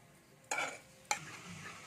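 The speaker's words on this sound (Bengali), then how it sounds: "লঙ্কাটাও একটু ভাজা হয়ে যাবে, হলদিটাও কিন্তু আমার ভাজা হয়ে যাবে" Chili and turmeric frying in a pan for a potato paratha filling give a soft, steady sizzle, broken by two sharp stirring scrapes close by.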